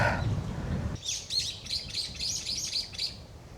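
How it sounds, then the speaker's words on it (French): Several birds chirp and tweet beside a cabin on a cycling route in Korea, quick bright calls repeating in bursts, fairly close and clear over a quiet background. "ça piaille"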